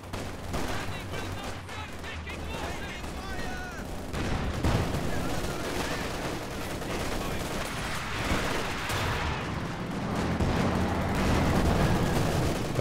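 Machine gun fire rattles through a Company of Heroes 2 battle, sustained bursts over rumbling artillery and explosions, with the intensity building toward the end.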